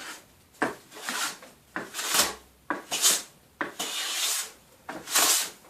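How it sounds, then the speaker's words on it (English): A woodworking hand plane shaves a piece of timber against awkward grain, making about six close, rhythmic rasping swishes, each stroke rising and then fading, with short quiet gaps between them. "it doesn't like me planing in the one direction. So let's try it in the opposite direction."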